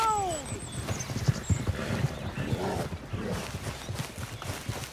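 Horse hooves clip-clop in a rhythmic galloping beat in Red Dead Redemption 2, with a horse whinnying near the start and game voices and effects mixed in over the hoofbeats.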